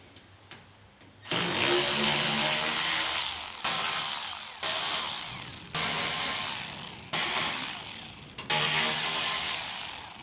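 Ratchet backing screws out of the side cover of a Lincoln Ranger 8 welder: after a couple of faint clicks, repeated loud buzzing runs of a few seconds each, separated by short pauses, close and without speech.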